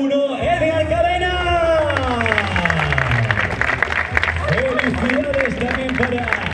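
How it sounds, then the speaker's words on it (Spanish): Crowd applause and cheering for the winner of the 2022 Vuelta a Salamanca cycling race, heard under a loud announcer's voice with whoops and hubbub throughout. "recibimos el aplauso para el vencedor de la Vuelta a Salamanca 2022, el dorsal número 1, Edgar Cadena."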